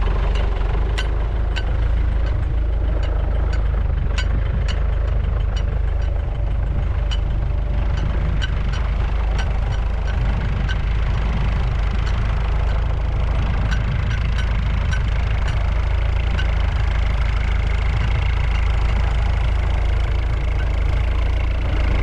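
A Cat 434E backhoe engine runs steadily at a constant drone while the large machine turns a small circle, loud and close with no talk over it.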